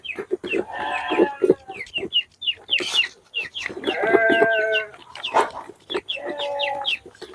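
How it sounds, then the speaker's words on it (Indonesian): Backyard chickens being fed cluck and squawk up close in busy, overlapping bursts, with a louder crow-like call partway through and no talk over them. "Oke, ini saya kasihkan ke ayamnya."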